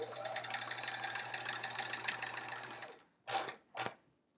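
Stitching a quilt block, a sewing machine runs steadily for about three seconds, then falls silent, followed by two short separate bursts of sound.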